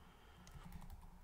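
Fingers tap on a computer keyboard, making a soft run of quick key clicks over a low background hum. The typing is faint and close, with no speech.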